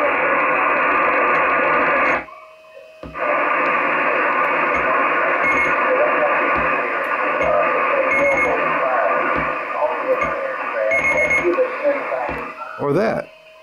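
A weak radio signal is heard through a BHI NEDSP1061-KBD DSP noise-filtering unit. The band-limited voice audio runs steadily, with a brief dropout early on and a short burst of noise at the end.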